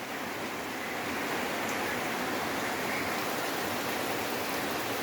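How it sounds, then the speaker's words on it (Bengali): Steady rain drums on the tin roof of a house in an even, dense hiss that holds at one level throughout, close and without any voices. "বৃষ্টির টুপটাপ শব্দ অনেক ভালো লাগে।"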